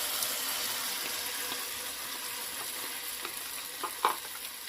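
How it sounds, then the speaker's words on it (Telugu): Masala paste frying in a pan, a soft steady sizzle with faint stirring scrapes and a brief louder clatter near the end, close and fairly quiet, no voices. "ఇందులో ఇలా వేసేసుకొని బాగా ఫ్రై చేసుకోవాలండి"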